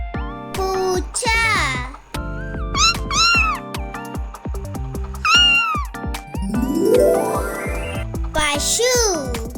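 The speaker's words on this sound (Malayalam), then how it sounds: "പൂച്ച" House cat meowing in several drawn-out, rising and falling calls, fairly loud and close, alternating with a child's speech over soft music.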